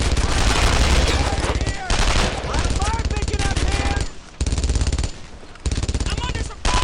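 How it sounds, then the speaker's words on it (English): Heavy World War II gunfire in the video game Brothers in Arms: Earned in Blood, with hedgerows and a tank destroyer around: continuous loud rapid machine-gun bursts and shots, broken by brief gaps, with some voices mixed in. "I'm under some fire"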